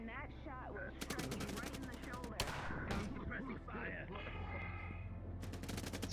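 Sustained automatic gunfire in a roleplay shooter video game, rapid bursts of shots layered over continuous dense battle noise and a low engine-like drone, with a voice talking in between.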